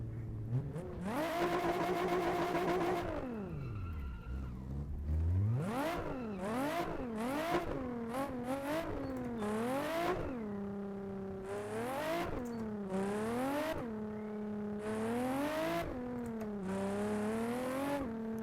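A naturally aspirated Nissan 350Z engine in the Assetto Corsa driving game, revving hard through repeated gear changes, with the pitch climbing and dropping in quick cycles, steady and close, with no talk.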